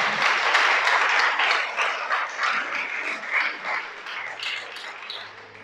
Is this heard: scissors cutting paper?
no